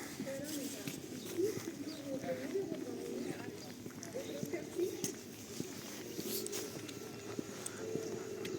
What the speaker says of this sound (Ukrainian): Голуби. Голуби на місці.